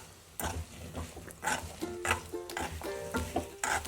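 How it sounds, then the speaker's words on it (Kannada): Okra tossed into hot oil crackles in short, uneven bursts as a hand stirs it, close and fairly quiet, with scraping and clinking between the sizzles and no talk. "ಇವಾಗ ಎಣ್ಣೆ ಬಿಸಿಯಾಗಿದೆ. ಇದನ್ನು ಹಾಕಿಬಿಟ್ಟು ಹೀಗೆ ಕೈ ಆಡಿಸ್ತಾ ಇದ್ದರೆ ಆಯಿತು."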